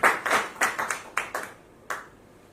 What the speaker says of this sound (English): Huge round of applause for Syed Salar.